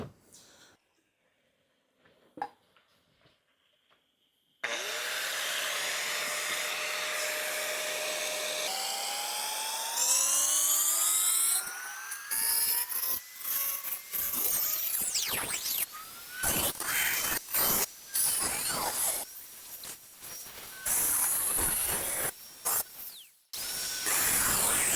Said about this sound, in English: this particular grinder to do the cutout